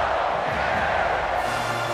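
Stadium crowd noise from the NCAA 14 college football video game, Miami at Florida, a steady broadband roar of cheering that holds throughout without breaks.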